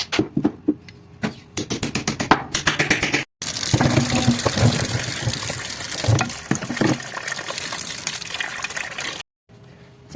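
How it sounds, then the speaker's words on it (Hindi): Running tap water rinses a seedless pumpkin being washed for petha halwa, starting with choppy splashes and spurts and then settling into a steady, close gush that cuts off abruptly near the end. "हमने इसको धो के अच्छे तरीके से वॉश कर लिया"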